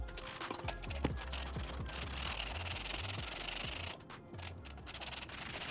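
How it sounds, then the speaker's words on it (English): Steady, continuous scratchy rubbing of sandpaper against a hard 3D-printed sign, close up, with a brief pause near the end before the strokes resume. "After what felt like an eternity of sanding, the initial sanding was done"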